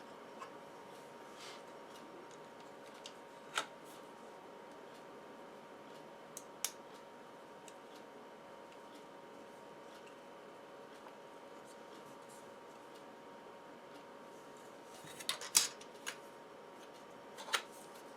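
Sharp, faint clicks of cutters snipping soft plastic parts from the sprue of a Tamiya BT7 tank model kit, spaced out singly and then in a quick cluster near the end, over a quiet room hum.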